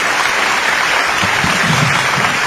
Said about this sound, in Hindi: आप एक बार इस प्रयास के लिए जोरदार तालियां बजाएं